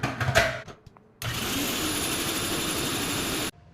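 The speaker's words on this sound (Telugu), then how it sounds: "ఒక టొమాటో, చిన్న అల్లం ముక్క, ఒక 2-3 వెల్లుల్లి రెబ్బలు వేసి మిక్సీ చేస్తున్నాను" A mixer grinder blends one tomato, a small piece of ginger and two or three garlic cloves. After some handling clatter, a loud, steady motor whir runs for about two seconds, then cuts off abruptly.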